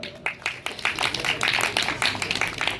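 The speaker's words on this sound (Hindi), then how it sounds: "जोरदार तालियां।" A school audience at a Himachal Pradesh school function claps in a dense, steady round of applause that builds and holds at moderate loudness, with a faint voice briefly underneath.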